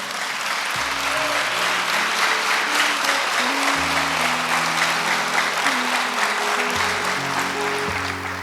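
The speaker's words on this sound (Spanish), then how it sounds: "Ahora sí puede darle un aplauso a Dios si quiere." A church congregation at a Sunday service breaks into sustained, dense applause lasting several seconds, with organ or keyboard chords sounding underneath and no one speaking.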